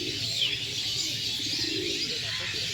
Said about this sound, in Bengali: এই দেখুন এটা নর পায়রা